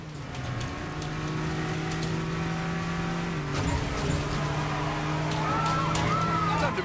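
A car accelerating hard, its engine holding a steady whine that climbs and shifts as it gathers speed, with tire noise and a faint voice in the background.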